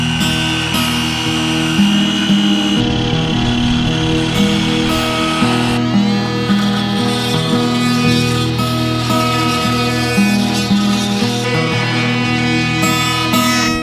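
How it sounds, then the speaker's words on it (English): An oscillating multi-tool makes shallow angled cuts in cedar, giving a steady, close, high buzzing whine whose pitch wavers as the blade loads and eases through the wood, with no talk. "this multi-tool and making these really shallow angled cuts"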